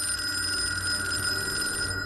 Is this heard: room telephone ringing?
yes